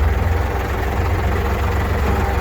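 A tractor engine idles steadily nearby, a low, even rumble with a faint rhythmic pulse and no talking.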